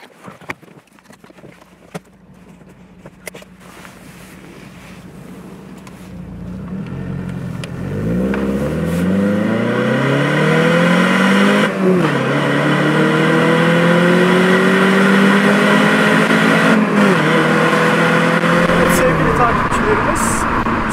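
A 1985 Mercedes W201 190E 2.3-16 Cosworth starts off and accelerates, its engine note rising steadily through the gears and holding a strong, close drone from inside the cabin.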